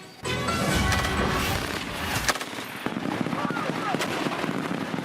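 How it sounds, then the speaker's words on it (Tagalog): Rapid, continuous gunfire from Philippine and Australian Army ground forces crackles and booms in sustained bursts during a live fire exercise in Camarines, a dense barrage of shots echoing outdoors. "Sunod-sunod ang pinakawalang putok ng ground forces ng Philippine at Australian Army sa live fire exercise"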